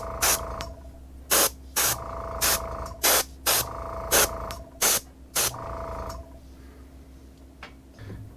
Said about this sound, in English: I'm going to go in with some Guncore brown and just airbrush it downward